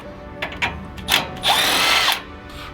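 A power tool, likely an impact driver, removes a 19 mm lower shock tower bolt on a Toyota Tacoma during a front shock install: brief bursts, then a sustained loud whir that stops abruptly.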